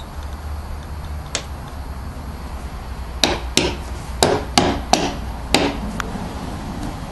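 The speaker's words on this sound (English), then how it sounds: "we'll just hammer the magnet in" Sharp hammer blows ring out as a magnet is hammered into a pet door frame: one early strike, then a cluster of about six firm knocks in uneven rhythm, close and clear over low room hum.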